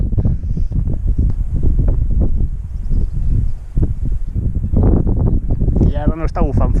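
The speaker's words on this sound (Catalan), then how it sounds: "bufa vent, és que bufa vent de tants ràfegues que no em tiren de la bici de miracle." Gusty wind roars steadily across the microphone while someone cycles through the Cadí-Moixeró mountains, loud broadband buffeting with brief lulls, and a voice comes in near the end.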